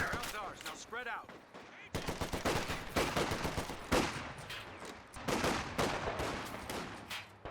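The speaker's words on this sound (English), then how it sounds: "Some slow-paced firefights happening." Battle gunfire in Company of Heroes 2 firefights pours out as dense machine-gun rattles and single rifle cracks at middling distance, nearly continuous, with a voice briefly heard at the start.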